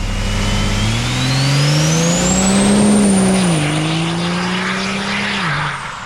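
A compound-turbo car with a 67/67 and 488 turbo setup holds a loud, steady engine drone that climbs in pitch with a rising turbo whine, then dips slightly and tails off at the end.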